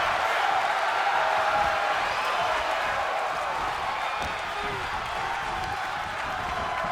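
A wrestling arena crowd in the WWE 2K25 video game keeps up a steady, loud roar of cheering and applause, a dense wash of noise lasting the whole stretch.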